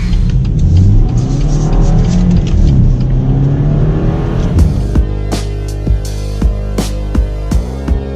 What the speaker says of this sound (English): when you actually floor it and if you listen it from the outside, it sounds like a Mini Cooper